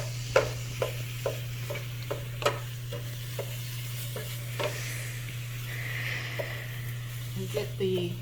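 Grass-fed ground beef sizzling in a pan, a quiet continuous fry with scattered light clicks from stirring over a steady low hum, no talking.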